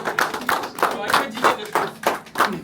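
A small group of people clapping in a podcast studio, uneven bursts of hand claps in loose rhythm with voices talking and laughing over them.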